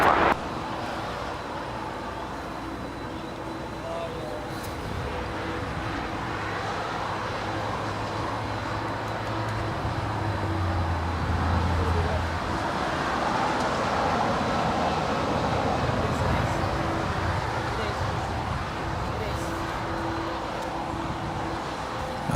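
A heavy Boeing 777 lands on runway 25 left at Los Angeles International Airport, a steady broad jet roar holding at a distance through the whole stretch with a faint low drone underneath.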